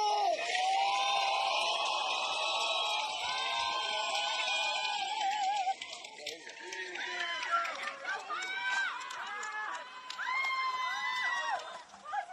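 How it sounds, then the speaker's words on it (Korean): A crowd cheers and shouts loudly and continuously at an election campaign rally in Gongju, South Korea, for the Democratic Party's Lee Jae-myung, with sustained roaring and whistles, then excited chants and calls ringing out in bursts. "여러분, 다시 한번 함성을 함께 해주십시오"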